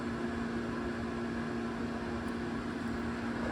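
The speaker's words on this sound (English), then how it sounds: "Dehumidifier running," A dehumidifier runs steadily in the background on a rainy day, a faint constant hum with an even whooshing airflow and no change throughout.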